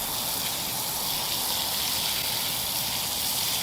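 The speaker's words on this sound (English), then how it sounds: "I'm going to soak this sucker down real good" Water poured to soak the soil around an air-layered plant's roots, a steady close rushing gush with no pauses, alone and unbroken throughout.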